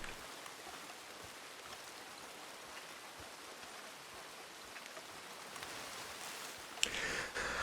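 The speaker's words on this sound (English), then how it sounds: "the rain is horrendous" Steady rain in Red Dead Redemption 2 keeps up a soft, continuous hiss of falling drops, fairly faint and even, with a brief sharper knock near the end.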